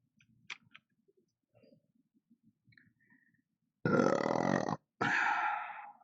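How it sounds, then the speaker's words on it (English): Two loud, close burps after eating pickles, one long and one shorter, follow a quiet stretch of small clicks and faint scraping from model-kit work. "Yeah, pickle burps."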